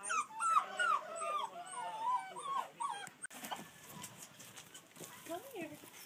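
Three scared puppies meeting goats, chickens and sheep on a farm whimper and yelp in high, wavering cries close by, followed by someone talking softly to coax them.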